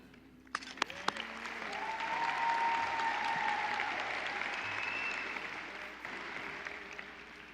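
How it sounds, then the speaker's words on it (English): A high school graduation audience claps at length for the people who supported the graduates, a broad, even roar of applause with a few sharp close claps early and some whistles drifting over the crowd. "I would like to give them a big round of applause for the people in our life who supported us through our high school journey"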